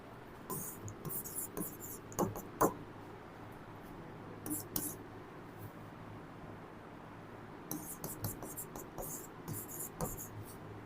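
Pen or marker scratching on a board during a Class 11 chemistry lecture on thermodynamics, short bursts of strokes in quiet room tone with faint background noise and no talking.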